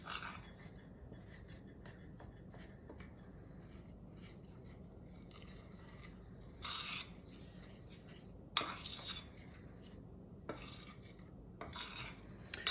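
Melted butter being stirred in a bowl for keto brownie batter, a soft steady scraping and rubbing with a few louder clinks of utensil against the bowl near the end.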